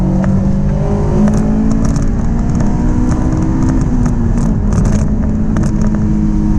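A 2005 Honda S2000 accelerating hard to pass another car, a loud close engine drone rising steadily in pitch, with road and wind noise throughout.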